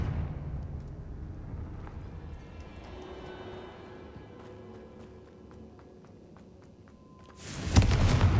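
A Confringo spell explosion in Hogwarts Legacy erupts as a sudden loud, broad blast near the end, following several seconds of low rumbling ambience.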